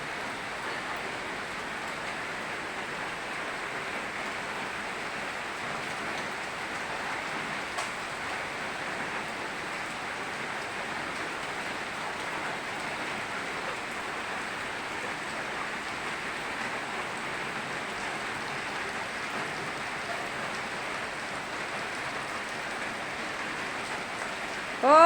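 Steady rain falls for the whole stretch as an even, soft hiss, fairly faint and unchanging, with no voices over it.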